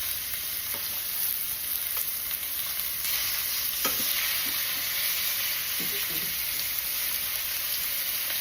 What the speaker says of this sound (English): I'm gonna go ahead and put my chicken in. And you can hear the sizzle